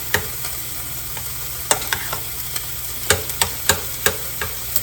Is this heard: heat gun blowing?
no